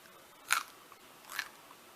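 Two sharp, brief crunches of dehydrated marshmallows being bitten, close but quiet, spaced about a second apart against a faint hiss.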